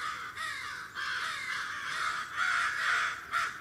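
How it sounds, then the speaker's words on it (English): A murder of crows above a beaver pond mobs a great horned owl with raucous, overlapping caws. The calls repeat in quick bursts throughout, loud and harsh at moderate distance. "this murder of crows is trying to chase out a great horned owl"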